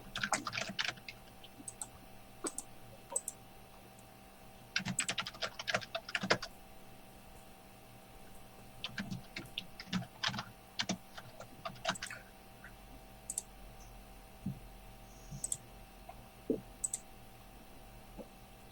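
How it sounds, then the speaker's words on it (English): Computer keyboards clattering in bursts of rapid key clicks with pauses between, alongside scattered ticks and a faint steady hum, quiet and close with no talk. "I just heard people typing things."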